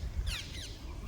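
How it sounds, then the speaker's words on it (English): Parakeets squawk on a golf course, a couple of harsh, scratchy calls from a distance over steady low outdoor rumble. "parakeets. There's hundreds of them."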